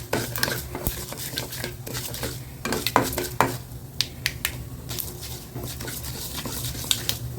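Urad dal roasting in a pan for a black chutney, with repeated close scraping and clacking stirring strokes over a faint sizzle, no talk.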